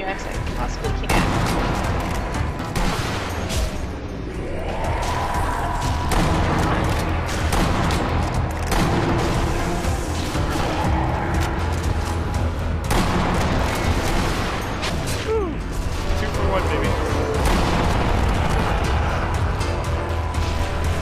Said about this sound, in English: Gonna try and snipe as many from here as I possibly can.